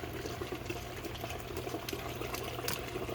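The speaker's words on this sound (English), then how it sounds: "the water's coming up the channel and down, plus out the bottom of the channel into the French drain" Storm floodwater pours steadily into a basement window well and drains through a channel into a French drain, a continuous close, broadband rush and gurgle with no voices.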